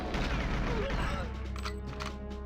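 Tank cannon fire in the video game GoldenEye 007, heard as loud, dense booming blasts and crashing impacts that fill the clip, with a voice talking over the game sound.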